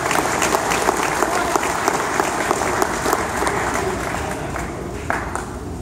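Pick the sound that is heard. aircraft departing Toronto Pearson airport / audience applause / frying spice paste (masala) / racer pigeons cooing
audience applause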